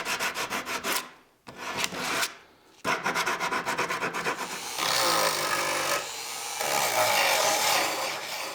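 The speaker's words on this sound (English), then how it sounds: "I'll finish these rounded parts with some sanding and dremeling." Rhythmic rasping strokes of sanding on pine wood, close and steady, pausing twice before shifting to a smoother, continuous grinding rub.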